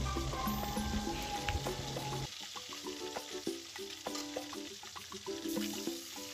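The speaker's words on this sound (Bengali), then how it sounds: "বাকি যে মাছগুলো ছিল সেগুলো আমি তেলের মধ্যে ছেড়ে দিলাম। বাকি মাছগুলোকেও আমি একটু ভালো করে ভেজে নেব।" Fish frying in hot oil in a home kitchen give a steady, bright sizzle that continues throughout at moderate loudness, with a louder crackle at the start and light clinks of utensils.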